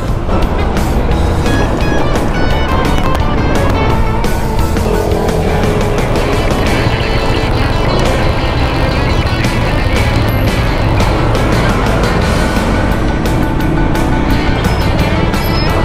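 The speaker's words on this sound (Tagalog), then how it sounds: "Ang traffic days, sobrang traffic, puro truck kasi dumadaan halos." Heavy truck traffic on a Manila road, a loud, continuous roar of engines and tire noise close by, dense and unbroken throughout with no clear voices.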